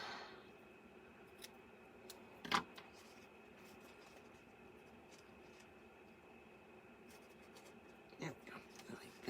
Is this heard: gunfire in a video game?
no